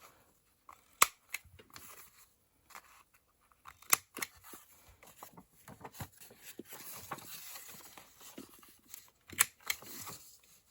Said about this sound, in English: I came in with my corner rounder to round off some